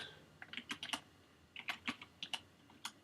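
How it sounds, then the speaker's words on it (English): Keystrokes on a Truly Ergonomic keyboard with blank keys come in quick, quiet clicking bursts, a short pause, then more irregular taps, close and alone. "my typing is really off tonight. I use a truly ergonomic blank keyboard"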